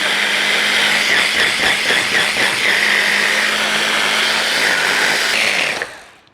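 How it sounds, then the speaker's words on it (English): A blender whirs loudly through a kufta meat mixture, a continuous high motor whine with brief choppy pulses early on, running steadily before cutting off and spinning down at the end. "So I'll just pulsate the blend"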